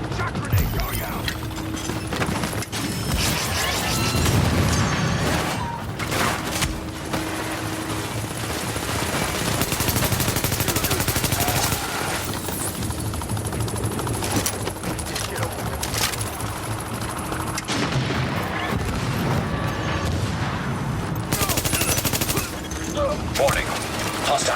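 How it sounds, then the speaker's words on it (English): Combat in The Division at a UN assembly hall, with a shock grenade and sustained gunfire: dense, continuous crackling shots and mechanical clatter throughout, with voices calling out over the fighting. "Shock grenade going out!"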